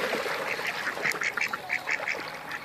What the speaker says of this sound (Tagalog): Papakain namin sa mga itik.